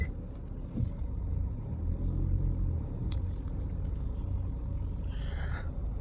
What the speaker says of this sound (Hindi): अब फाइनली कार रिवर्स में अंदर चली जाएगी।